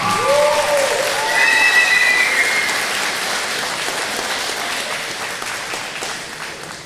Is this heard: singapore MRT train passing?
no